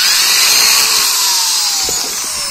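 A 3 mm bit drilling into Dutch teak for a slingshot frame, a steady high whining grind held loud and close, easing slightly toward the end, with no voices.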